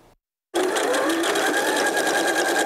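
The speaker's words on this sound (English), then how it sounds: "The gentle cadence of the sewing machine is the sound of purpose meeting passion." A sewing machine stitching cloth face masks starts abruptly after a brief silence and runs as a loud, close, steady fast whirring drone for the rest of the clip.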